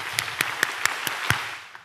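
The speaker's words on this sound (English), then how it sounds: "7 claps one time" A group claps together in sharp, evenly spaced strokes, seven distinct claps in quick rhythm, fairly close and moderately loud, with a faint tail of extra clapping at the end.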